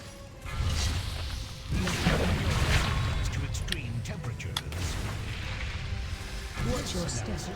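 A loud booming blast with whooshing debris rolls out during a raid battle in World of Warcraft, heavy and sustained, with further rumbling impacts and a voice talking underneath.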